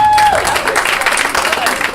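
Steady, full clapping from a live comedy club audience at Cozzy's in Newport News, Virginia, with a brief shout near the start, holding at a constant loud level for a couple of seconds.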